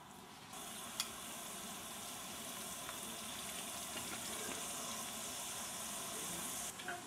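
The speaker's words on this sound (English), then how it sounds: "When the oil is hot, put in your tortillas." Steady, close sizzling and crackling of tortillas frying in hot oil, continuous throughout with no talking.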